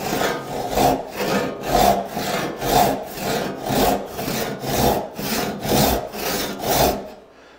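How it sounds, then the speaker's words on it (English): Hand saw cutting across the end grain of a wooden board for a bench hook: eight steady, rhythmic rasping strokes, close and loud, each push and pull clearly separated, with no talking. "Slowly let the weight of the saw into the wood."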